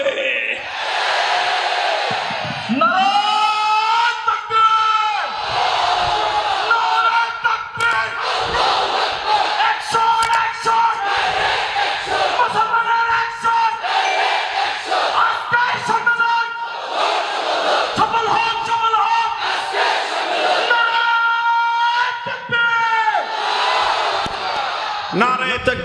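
A large crowd at a Qawmi madrasa gathering loudly chanting the Naraye Takbir Allahu Akbar slogan in repeated call-and-response waves, a leader's voice alternating with the massed shout, continuous and close.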